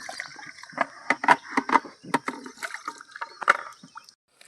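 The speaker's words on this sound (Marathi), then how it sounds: "तर हातपाय धुवायला आली नदीवरती." Someone washes muddy hands and feet in a river after picking okra, with irregular splashes and sloshes of water close by and a faint steady background hum.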